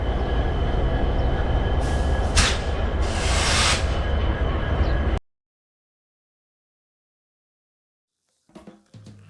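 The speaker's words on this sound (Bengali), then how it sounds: "এখনই ছেড়ে দেবে ট্রেনটা।" A train waiting at Agartala station just before departure: a loud steady rumble and engine drone with two bursts of hissing, then an abrupt cut to near silence before faint clattering returns at the end.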